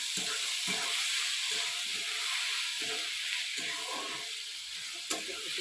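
Tomatoes and finely chopped green chili sizzle and fry in a pan for tomato chutney, a steady close hiss with repeated scraping stirs throughout.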